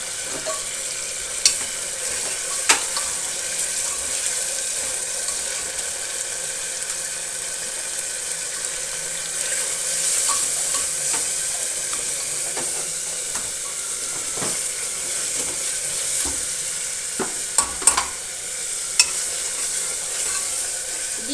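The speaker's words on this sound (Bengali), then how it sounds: "টমেটো কুচি দিয়ে একটু নাড়াচাড়া করে এটা কষাবো" Chopped tomato sizzles and fries in a spice masala for a dhaba-style dish, with a steady hiss running throughout and occasional sharp scrapes and clicks from stirring.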